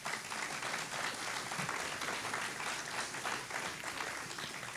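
An audience at a mayor's State of the City address breaks into sustained applause, a fairly distant, even roar of many hands clapping for about five seconds.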